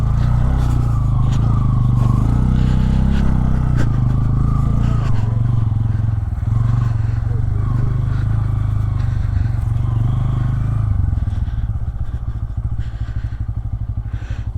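A motorcycle climbs a steep off-road hill track of red earth, its engine labouring loudly and continuously with scraping and clattering from the rough ground, the note roughening near the end.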